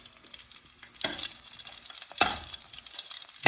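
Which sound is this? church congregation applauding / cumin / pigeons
cumin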